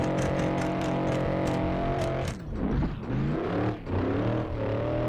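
A BMW E36 drifting on a snowy road in the Assetto Corsa racing game, its engine droning loud and constant, then revving and dipping in wavering swells as the car slides.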